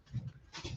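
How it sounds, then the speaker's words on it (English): Quick, quiet panting from a dog running zoomies, a few rapid breathy huffs in a row, faint and close. "If you can hear my dog, he's got zoomies right now."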